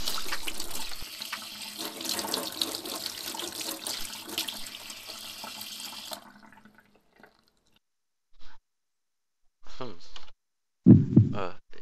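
Water runs from a tap in the video game Paranoiac, a steady loud rushing that stops abruptly about halfway, followed by near silence and a few brief voice bursts.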